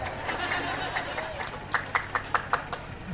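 An audience at a haul gathering at the Assalafiyah Ciasem Islamic boarding school applauds, a soft patter of clapping under murmuring crowd chatter with a few sharper, louder claps toward the end.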